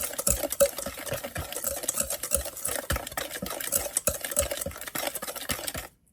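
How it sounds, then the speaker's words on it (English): Whisk or spoon mixing dry ingredients with salt in a bowl for coconut pudding, quick continuous scraping and tapping for several seconds before it stops abruptly, no talk. "we're gonna mix everything"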